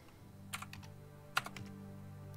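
Two brief clusters of keyboard clacks from the text adventure game Stories Untold, the second with a sharper key strike, set against a constant low background hum.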